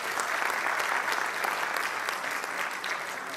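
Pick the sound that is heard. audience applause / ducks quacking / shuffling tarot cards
audience applause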